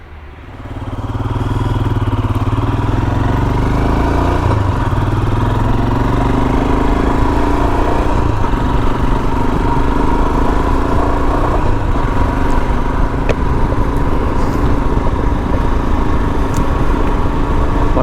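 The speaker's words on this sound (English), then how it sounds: "I'm just taking the Himalayan out for a familiar ride to exercise it" A Royal Enfield Himalayan motorcycle engine drones loudly and steadily while riding, a close, continuous mid-pitched rumble that builds in the first second and holds with little change throughout.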